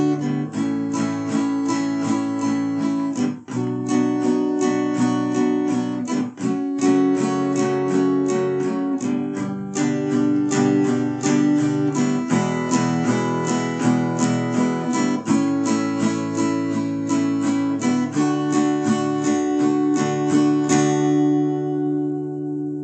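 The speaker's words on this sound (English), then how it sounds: "For all the chords, we're going to be using a simple strumming pattern that just goes" Acoustic guitar strumming a chord progression in a steady down-up pattern, bright full chords ringing continuously with rhythmic pick attacks and no voice over it.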